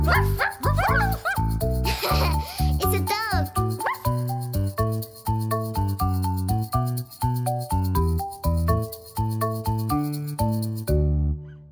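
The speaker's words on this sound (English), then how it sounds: "It's a dog." A cartoonish dog bark emerging from a toy surprise egg in a nursery-rhyme song, repeated in a bouncy rhythm over loud, steady children's music.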